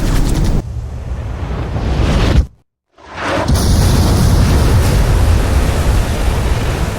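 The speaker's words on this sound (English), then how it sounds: "We've been hit by 2 sub-launch missiles." Missiles striking a warship in Ace Combat 5 produce heavy booming blasts and a roaring, surf-like wash of noise, broken by a sudden brief silence before the rumble returns at full strength.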